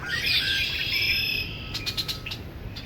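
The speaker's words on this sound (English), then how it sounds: "Birds like crazy through here." A dense chorus of birds and insects chirps steadily in a residential neighborhood, bright high calls layered together, with a few sharper chirps standing out toward the end and no voices.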